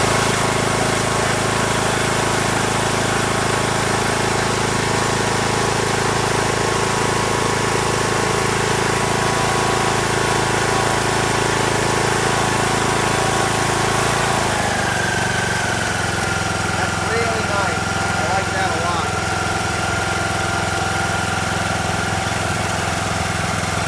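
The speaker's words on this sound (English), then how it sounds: "this is the first time I've actually started this tractor since I bought it" A Troy-Bilt Pony lawn tractor, first start since being bought, runs steadily at a close, constant idle for the whole stretch, its engine note dropping and settling lower partway through.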